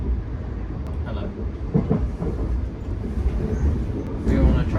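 Train interior in motion, a steady low rumble and rattle of the carriage with faint clicks of the rails, continuous and close throughout.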